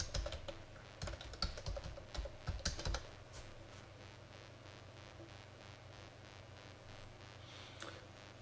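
Keys clack in a short burst of password typing on a computer keyboard, faint and close, followed by several seconds of quiet hiss and one last keystroke.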